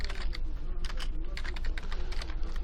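Brisk typing on a computer keyboard, dense irregular keystroke clicks close by over a low background hum, without any talk.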